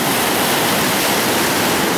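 Ocean surf on a black sand beach at Puerto Naos, La Palma, a loud, continuous roar of crashing waves right up close.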